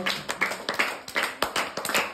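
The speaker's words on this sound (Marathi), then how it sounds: "सगळ्यांनी टाळ्या वाजवा वर्ल्ड चेस डे बद्दल" A group of people clapping hands for World Chess Day in an indoor class, a short burst of uneven, fairly close claps in a loose rhythm, no talk over it.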